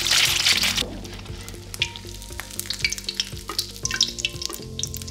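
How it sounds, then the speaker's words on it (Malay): Hot oil sizzles loudly as an egg drops into deep oil, then settles into steady crackling and spattering with a few light clinks of utensils. "Kita goreng dalam minyak yang banyak dan minyak tu kena betul-betul panas."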